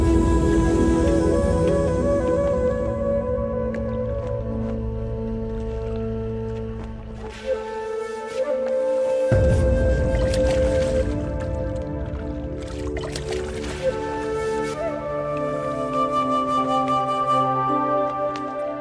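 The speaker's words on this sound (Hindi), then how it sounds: "अब आप इन दोनों घड़ों को पानी में डाल दीजिए।" Two clay pots go into water, giving a long stretch of sloshing, gurgling and trickling. Water rushes in at intervals over nearly twenty seconds.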